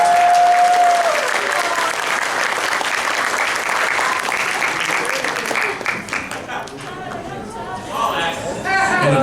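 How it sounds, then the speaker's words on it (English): Loud, sustained applause from a convention audience for the guest of honour at an opening ceremony. It fills the room and fades gradually toward the end, with crowd chatter and a voice speaking over it. "Give her a big round of applause."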